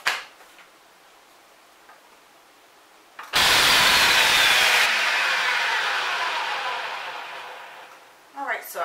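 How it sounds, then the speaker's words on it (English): Food processor grinding roasted spices, starting abruptly as a loud harsh whir with a rattling of the spices, then easing into a fading spin-down. Quiet ticking before and after. "So I'm using my food processor."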